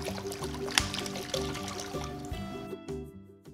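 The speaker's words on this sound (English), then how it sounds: "Add the water in the box." Water poured into pizza dough ingredients of flour, sea salt, olive oil and honey, a soft steady trickle and splash lasting a few seconds over a low background hum before fading.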